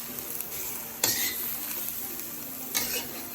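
Lomo saltado tossed in a cured wok, stir-frying with a steady hiss and two sharp clattering tosses of the food, close and fairly quiet.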